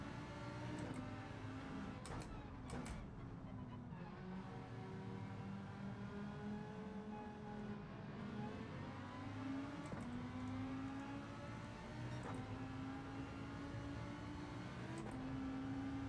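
Lamborghini engines droning and revving on a mountain road, a continuous faint hum whose pitch rises and falls with shifts and passes, distant and steady throughout with no talk.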